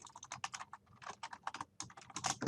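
Quick, uneven typing on a computer keyboard, with a close, dense run of sharp key clicks and a few short pauses.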